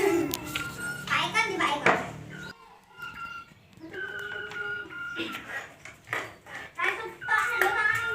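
An oriental magpie-robin (murai batu) that has lost its voice gives short, weak, chicken-like clucking calls. The calls come in several close bursts with brief pauses between them.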